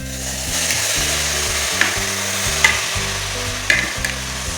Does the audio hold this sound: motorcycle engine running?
no